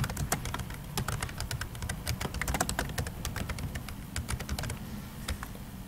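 Fingers type steadily on a computer keyboard, a close, brisk patter of key presses with uneven rhythm over a constant low background rumble, no voices present.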